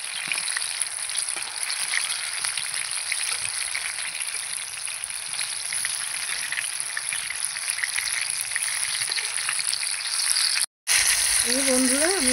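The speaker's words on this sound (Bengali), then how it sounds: "এই যে খুন্তিতে এইভাবে ঘুরিয়ে ঘুরিয়ে দিতে হবে।" Chicken for chicken satay fries in hot oil with a loud, continuous sizzle while a spatula turns the pieces, adding faint scrapes. A short gap comes near the end, and a brief voice-like tone follows it.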